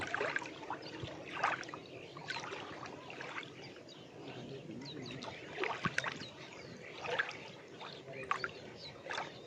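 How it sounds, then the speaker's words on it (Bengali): Gentle water laps and trickles against a boat on open water, a soft uneven splashing under faint bird calls, with no one talking. "অনেক সুন্দর ঢেউ"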